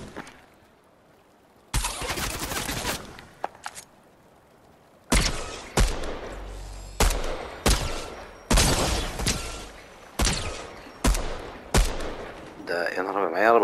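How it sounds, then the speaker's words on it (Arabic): Gunshots ring out in the video game Fortnite: loud, close, single cracks and quick bursts repeat at uneven gaps, with long ringing tails and brief quiet stretches between volleys. "أربع طلقات."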